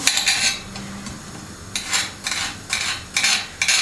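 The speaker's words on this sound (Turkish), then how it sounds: "yeşil fasulyenin soğanını doğrayalım" Knife chopping onion on a board for green beans in a home kitchen, heard as bursts of quick, close, sharp taps separated by short pauses, with a faint low hum beneath.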